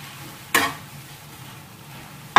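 Eggs drop into a hot pan for a salt-free tomato and egg diet dish, giving a sudden close burst of sizzling that fades to a faint fry, then a sharp clatter at the end.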